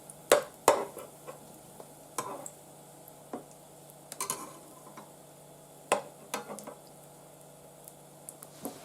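Sharp, irregular spattering pops and crackles from pancakes frying in oil in a pan, with occasional stirring scrapes over a faint steady sizzle, heard close up.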